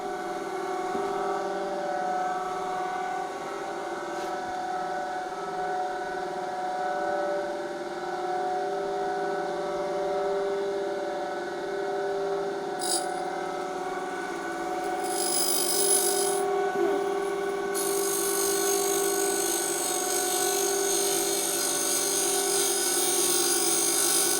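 A diamond grinding wheel spins steadily while sharpening a Japanese chisel, giving a continuous tonal whine and hum with a few brief hissy bursts later on.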